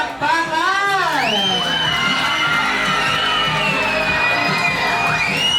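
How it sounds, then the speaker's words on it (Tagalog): Children at a seventh birthday party with a Jollibee mascot cheer loudly, with high whoops and shouts rising and falling in a continuous, excited crowd roar. "Wala po bang malakas na hiyawan at palakpakan?"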